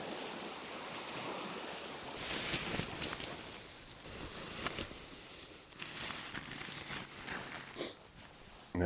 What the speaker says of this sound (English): Got some waves rolling in.